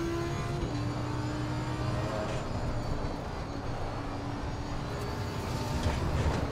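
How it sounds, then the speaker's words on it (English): Tyres of a race car in Assetto Corsa Competizione roll over marbles and debris on the track, giving a steady, loud, broad rumble with engine drone that barely changes throughout. "here the marbles and debris underneath the tyres"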